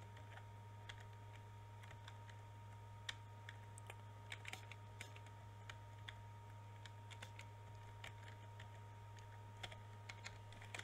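Fast, uneven clicking of keys on a computer keyboard while someone plays a PC fighting game, the taps light and fairly close over a steady low electrical hum.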